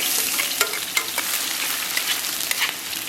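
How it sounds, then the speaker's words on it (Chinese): Minced scallion, ginger and garlic fry in moderately hot oil in a wok, a loud, close, continuous sizzle broken by occasional sharper crackles and pops, with no talking. "咱们给里边来点底油，油温3、4成热，咱们给里边来点葱姜蒜末"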